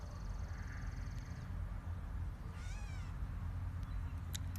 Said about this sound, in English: It's a cat bird.